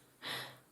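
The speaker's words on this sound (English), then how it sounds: "If you hear the snoring, it's my dog." A dog snores once, a single soft, breathy snort-like intake, faint and close in a quiet room.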